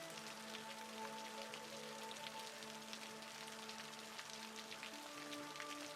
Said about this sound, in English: hopefully you like the sound of rain gently falling